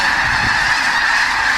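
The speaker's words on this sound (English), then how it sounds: "at one time, thousands of geese blast off into the sky" Thousands of geese at Bosque del Apache National Wildlife Refuge honk together as they take off, a dense, continuous clamor of overlapping calls that is loud and close and runs unbroken throughout.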